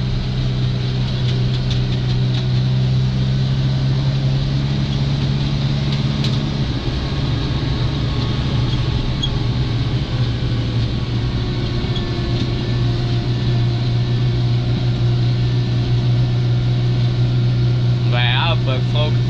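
A Deutz-Fahr tractor driving along a road, a loud, steady engine drone with constant low rumble throughout, someone talking over it.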